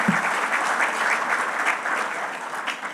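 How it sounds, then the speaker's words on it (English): An audience at a commercial real estate forum applauding steadily, a dense, even wash of clapping that holds through the whole stretch with no talk. "Can we get a big round of applause for the annual Real Estate magazine?"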